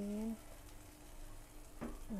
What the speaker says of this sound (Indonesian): Goreng telur dulu.